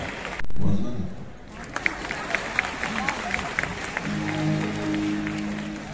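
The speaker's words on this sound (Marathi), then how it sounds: "जोरदार टाळ्याने मंत्री महोदयांचं आपण स्वागत करूया" An audience at a music event applauds to welcome a minister, with scattered clapping and crowd noise, faint at first and swelling, while a voice speaks over a loud hall system and music starts near the end.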